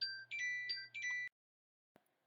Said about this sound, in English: I had my phone at Do Not Disturb, but the alarms still come through